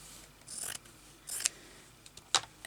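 Scissors cut fabric pieces for crazy patchwork in three short, close snipping strokes, quiet and crisp, with no talking.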